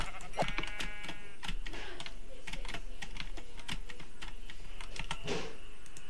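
Sheep bleat in Minecraft, a couple of clear bleats standing out over a steady bed of rapid clicking like keyboard typing, with no talking.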